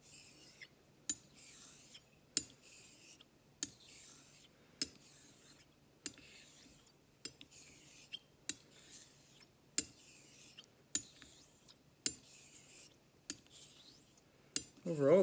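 Straight razor honed in circles on a Japanese natural stone: soft, faint continuous scraping punctuated by regular sharp clicks roughly every second, close and quiet with no talking.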